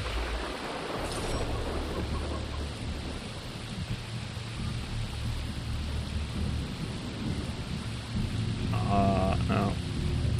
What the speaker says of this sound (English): And the rain is really fucking loud, man.